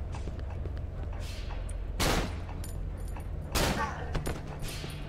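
Glock pistol shots in the horror game Cry of Fear, two sharp, loud reports spaced over a few seconds against a low steady game ambience.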